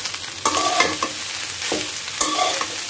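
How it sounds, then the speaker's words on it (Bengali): An egg sizzles and fries in a pan while a utensil stirs and scrapes in short bursts, loud and close, with no voices. "ডিমটা ভাজাচ্ছি"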